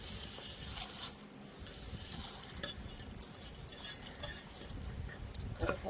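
Curry leaves and tomato crushed in a stone mortar for a Telugu roti chutney, giving soft irregular thuds and grinding scrapes at close range, fairly quiet, with no talking.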